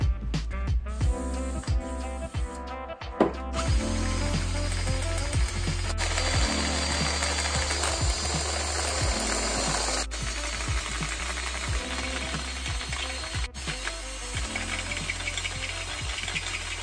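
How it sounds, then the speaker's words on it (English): A power drill grinds loudly through metal, enlarging a hole to one inch in a Dana 60 axle steering arm, whirring steadily with rattling, clattering bursts and sharp clicks, close up and without voices. "we are gonna drill this out to 1-inch"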